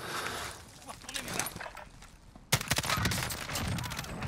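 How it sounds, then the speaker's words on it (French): Gunfire in the shooter game Warzone, a flurry of sharp rapid shots breaking out partway through amid game noise, with players talking over it. "Ah, ça tire dessus."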